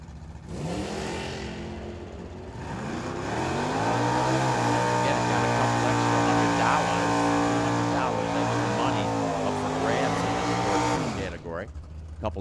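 A Corvette convertible drag racing at the track, its engine droning loud and steady with strong harmonics, rising in pitch as it pulls away and fading near the end, while an announcer talks over it.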